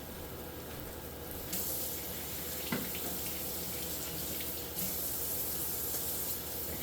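Water runs steadily from a kitchen tap while hands are washed beneath it, a continuous close hiss with brief splashes and a small clatter partway through.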